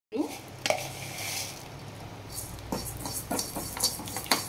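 Peanuts, two spoonfuls, dry roasting in a pan for mint chutney, with scattered clinks and scrapes of a spoon against the metal over a steady low hum, close and moderately loud.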